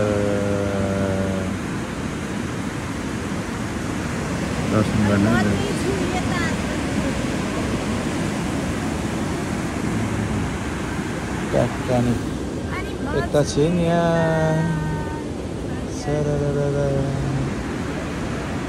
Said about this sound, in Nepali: यहाँ चाहिँ हाइड्रो पावरको लागि निकालेको पानीहरू